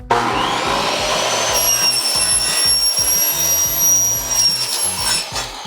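A blind-cutting machine slices through a blind cassette and inner tube with a loud, steady whine and grinding rumble, joined by a rising high-pitched scream as the blade bites, alone without speech.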